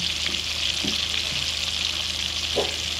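Fish frying in oil rendered from hard fat, a steady close sizzle with soft crackles and a few faint clinks, with no talking.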